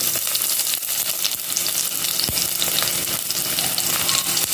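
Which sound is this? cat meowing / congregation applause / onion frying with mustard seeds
onion frying with mustard seeds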